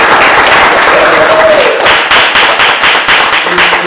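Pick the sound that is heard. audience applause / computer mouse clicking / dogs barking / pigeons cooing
audience applause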